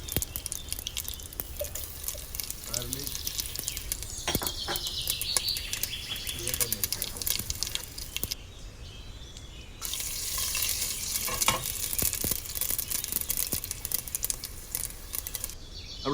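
Garlic sizzling and frying in hot oil with popped mustard seeds and asafoetida for sambar, a steady crackling hiss with occasional stirring scrapes throughout.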